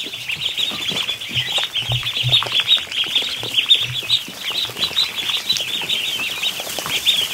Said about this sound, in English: Oh, ducklings.